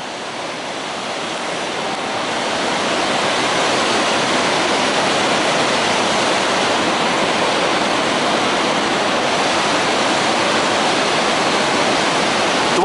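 Powerful waterfall pouring down close by during a dive beneath the falls, a steady loud broadband roar of crashing water that swells slightly in the first seconds and then holds constant, with no voices.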